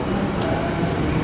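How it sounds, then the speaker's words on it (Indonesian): A container freight train runs past near Kalimas station, a loud, dense rolling rumble of wagons with a brief sharp hiss partway through and no voices. "Kereta api barang peti kemas dari stasiun Kalimas tujuan akhir Tanjung Priuk."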